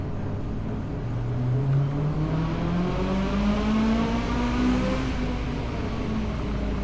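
A Honda J35A V6 engine in a 7th-generation Honda Accord runs steadily, its pitch rising slowly as it revs up, close and continuous with no talking.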